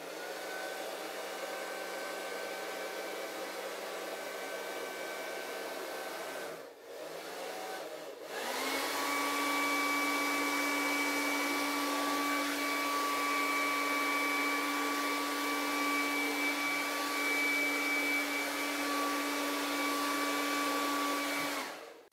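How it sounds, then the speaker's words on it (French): A hair dryer blows steadily, briefly dips and sputters, then resumes at a slightly higher, stronger whine that continues to the end. "j'ai penché le sèche-cheveux, c'est pas facile à dire, pour avoir un flux d'air beaucoup plus petit"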